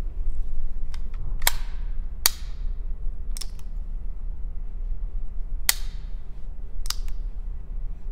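A KMR S-02 .22 LR pistol fires about five sharp, snappy shots spaced a second or more apart over a steady low outdoor rumble, with faint small clicks between them and no voices.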